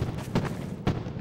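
Fireworks burst in a video game's Fourth of July show on a building server, three dull booming pops spaced unevenly over a continuous rumbling background, with no talking.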